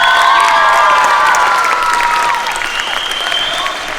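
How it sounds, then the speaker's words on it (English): Loud crowd applause and cheering for an Army band performance, dense clapping with whoops and shouts on top, close and full, gradually easing slightly toward the end. "Give them a round of applause."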